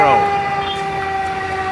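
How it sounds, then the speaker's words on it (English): A fire engine siren wails loudly and steadily nearby on a street in Medellín, Colombia, its tone holding high with a slight sweep at the start. "That's a fire ambulance"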